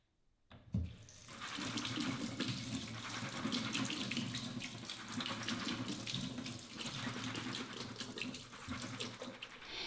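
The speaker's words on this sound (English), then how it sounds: "rinse the beans under cold running water" Cold tap water gushes steadily into a sink after a brief quiet start, with shifting splashes as soaked beans are rinsed under the stream.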